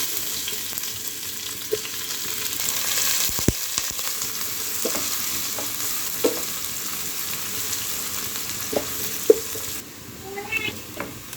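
Crushed ginger, chopped onion and garlic sizzle steadily in hot oil for khichuri, a continuous moderate frying hiss with a few sharp clinks of a utensil against the pan, close and without talk.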